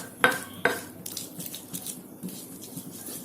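Spices are ground by hand in a mortar with a pestle: two sharp stone knocks, then softer scraping, squishing strokes against the bowl, close and fairly quiet with no talk.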